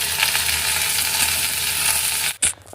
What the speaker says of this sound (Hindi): अब इसमें मैं ऐड कर दूंगी भिंडी। इसे चला देते हैं।